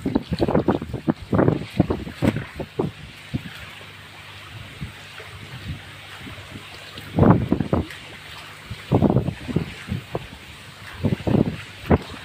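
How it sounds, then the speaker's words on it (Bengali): Strong wind sweeps across the Jamuna river during a fishing outing, a steady rushing hiss with buffeting low gusts that swell in several bursts, near and moderately loud, with no speech. "প্রচুর পরিমাণ বাতাস আজকে, এত পরিমাণ বাতাস যা বলার মতো না"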